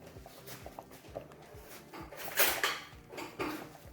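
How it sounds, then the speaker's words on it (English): Metal cutlery clinks and rattles as a fork is picked out in a kitchen while yams cook, a run of light close clatters with a brighter cluster of jangles midway, no talking. "Let me grab a fork."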